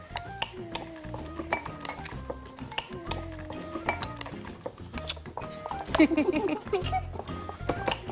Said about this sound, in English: And then give it a mix so it's all mixed in.